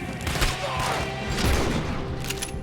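Gunfire in Red Dead Redemption 2 arrives as a continuous, busy barrage of overlapping shots and thuds, loud and close, with no clear pause between them.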